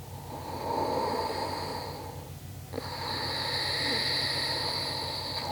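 Loud audible breathing during a yoga pose, two long drawn breaths in and out close to the microphone, separated by a brief pause.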